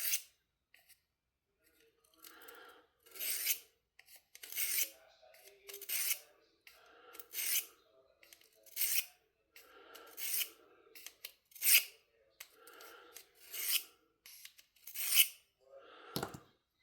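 A knife blade drawn across a Worksharp folding field sharpener in rhythmic, evenly spaced rasping strokes, close and fairly quiet, with short pauses between passes.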